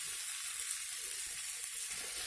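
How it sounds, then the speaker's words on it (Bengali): Boiled, hand-mashed potatoes frying in a pan of masala for a masala dosa filling, giving a soft, steady sizzling hiss that runs evenly throughout with no voices. "তো এবারে এই আলুটাকে ভালো করে মশলার সাথে কষিয়ে নেব।"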